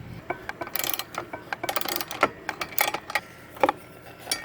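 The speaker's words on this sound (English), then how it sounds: "now you need to tighten both sides of this" Nuts tightened onto a threaded rod, a close, irregular run of small metallic clicks and ratcheting ticks in uneven bursts.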